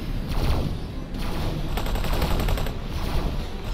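Rapid bursts of plasma cannon fire crackle and boom continuously, loud and close, in a dense barrage with brief pauses, in X4: Foundations, against a Xenon battleship.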